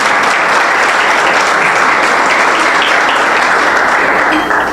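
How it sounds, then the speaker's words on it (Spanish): Loud, sustained applause from a church congregation fills the space, a thick, continuous roar of many clapping hands holding steady from start to finish. "Denle un aplauso al Señor"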